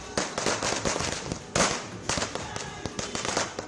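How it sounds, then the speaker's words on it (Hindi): Firecrackers are set off at an election victory celebration in Agartala, Tripura: dense rapid crackling bursts throughout, with one especially loud close bang near the middle. "फुलझड़ियां पटाखे जला रहे हैं"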